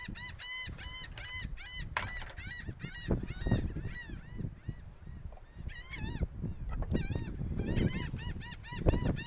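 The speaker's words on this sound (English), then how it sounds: "you can hear the seagulls, wind blowing everywhere" Loud seagull calls repeat in bursts and overlap, nearby and prominent over gusty wind rumble outdoors during offshore kayak fishing.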